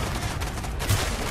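Sustained, dense gunfire from the Call of Duty Black Ops campaign, a loud continuous rattle with a sharper burst near the end, no voices.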